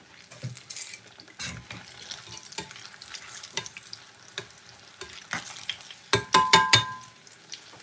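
Plantain frying in oil gives a low, continuous sizzle broken by scattered clicks and utensil knocks, ending in a louder burst of clattering near the end.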